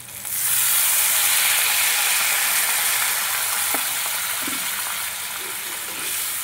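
A loud, steady sizzle of masala frying in a pan after a little water is added, close and continuous, with faint stirring scrapes underneath.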